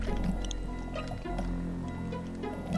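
Muffled underwater swimming in the horror game Blood: a continuous low watery churn with faint gurgles and drips, no voices.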